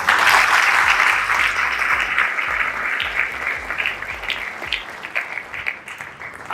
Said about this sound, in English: Could we please give a warm round of applause to our first judge, our own proprietress, Mrs. Abdul Razak.